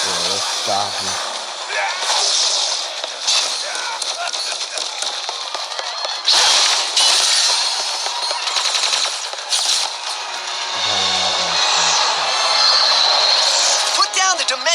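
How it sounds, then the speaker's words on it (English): A train pulls away in the Ratchet & Clank video game, heard as a loud, steady mechanical rumble and hiss with rapid clattering bursts that run throughout. "The train's pulling away."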